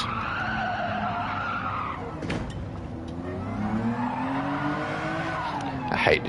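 Race car in a racing video game at the Gilles Villeneuve circuit skids and squeals its tyres continuously, engine revving underneath, with a sharp burst near the end; no talking.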